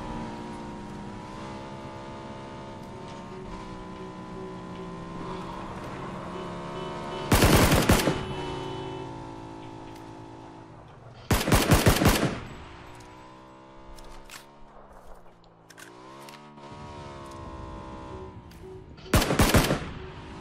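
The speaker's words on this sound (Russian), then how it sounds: "Кто стреляет?" Video game gunfire rips out in three loud automatic bursts against a steady droning engine hum, with quieter stretches in between.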